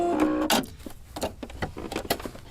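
A Brother sewing machine stitches a button in place, close by, with uneven bursts of needle clatter and motor whir that stop and start over a couple of seconds.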